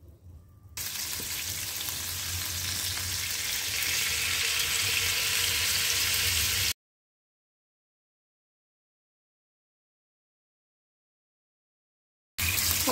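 Chicken tikka pieces frying in a pan give a loud, dense, continuous sizzle for several seconds, then cut to total silence before the sizzling returns briefly at the end.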